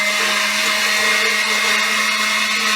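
Steady, loud whirring motor drone runs continuously while oil is worked into homemade mayonnaise, with a constant high hum and no breaks or talk.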